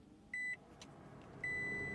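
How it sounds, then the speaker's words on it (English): A second-generation Toyota Prius hybrid starting up, with two clear electronic beeps from the dashboard over a quiet idle hum, no engine roar, close and brief. "I'm going to start the car to see if there are any codes."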